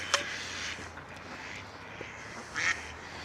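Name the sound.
ducks quacking near their little duck house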